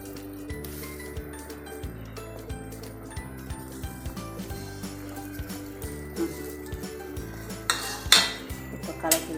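A utensil stirs potato kurma in a metal cooking pot, with repeated scraping and clinking strokes in an uneven rhythm, close by, growing louder toward the end.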